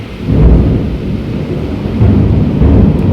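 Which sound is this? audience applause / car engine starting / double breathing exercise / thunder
thunder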